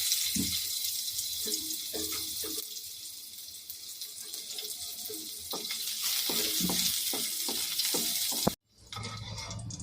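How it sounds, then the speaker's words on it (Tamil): Almonds and pistachios frying in a pan, a steady close sizzle and crackle with intermittent stirring scrapes, ending with a sudden short cutoff. "இப்போ பாதாம் பிஸ்தா போட்டு வறுத்துக்கணும்"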